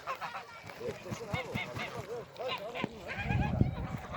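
A flock of Diamond geese honks continuously close by, their calls overlapping in a busy, uneven chatter that grows a little louder toward the end.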